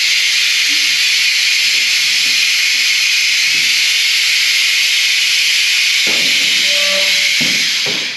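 Air hisses loudly and continuously as a motorcycle lift holding a KTM 125 SX is lowered, with a few soft clunks and taps from the lift near the end.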